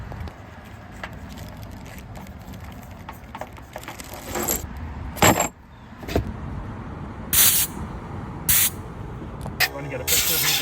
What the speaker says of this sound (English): Get a picture of me blowing all the junk off.